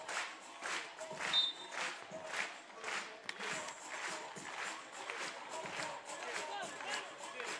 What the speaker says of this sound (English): The Dutch fans are into it.